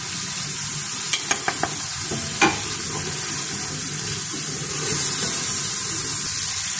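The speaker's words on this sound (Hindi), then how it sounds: "ये चिकन को हमने तब तक फ्राई करना है जब तक ये गोल्डन नहीं हो जाती।" Chicken pieces fry in hot oil with tikka masala, a loud steady sizzle with a few sharp spatula clicks early on, close and continuous with no speech.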